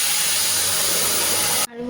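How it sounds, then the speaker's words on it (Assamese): Black cumin seeds sputter in hot oil with a loud, close, sustained hiss and crackle that cuts off sharply near the end. "ক'লা জিৰা অকণ ফুটাই দিছোঁ।"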